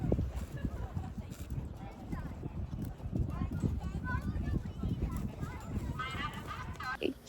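A spotted Appaloosa mare moving through a judged horse show round makes a steady, even clip-clop of hooves on the arena ground, heard clearly under ongoing talk.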